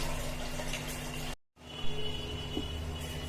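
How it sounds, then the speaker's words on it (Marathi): Rice being rinsed in water by hand, a faint, close sloshing and trickling with a short silent gap partway through. "परत 2-3 पाण्याने स्वच्छ धुवून घ्यायचे तांदूळ"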